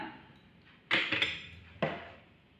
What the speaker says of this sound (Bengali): আমি আলুকে ছোট ছোট করে কেটে নিয়েছি আলু আলু ঢেলে দিলাম